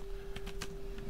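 Computer keyboard typing in Microsoft Word, a short burst of three or four quick, soft key clicks close up, alone over a faint steady hum.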